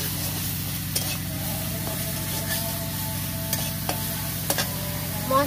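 Spices with chili powder and raw peanuts are stirred and fried in a pan, giving a steady close sizzle with scraping stirs and a few sharper clinks of the utensil against the pan.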